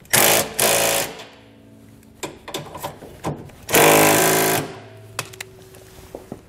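A ratchet-style 9/16 wrench snugs up bolts on rear air helper springs being installed on a 2020 Ford F-250, with loud bursts of rapid clicking separated by softer clanks and taps.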